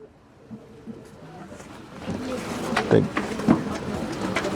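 Pigeons being brought out at a bird auction, with faint cooing and wing rustles under a busy room of voices and a couple of sharper thumps.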